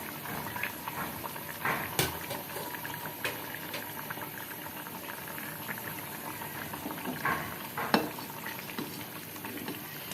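Chicken pieces stirred through a spiced masala in the pan, a steady bubbling sizzle with occasional sharp scrapes and clinks of the spoon, close and fairly loud with no talking.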